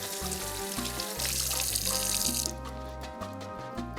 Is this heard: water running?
yes